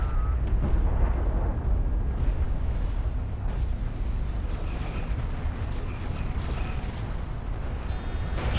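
Strike craft in the Desert of Kharak video game blow up amid a sustained, loud roar of explosions and battle rumble, continuous and heavy with scattered pops and metallic creaks.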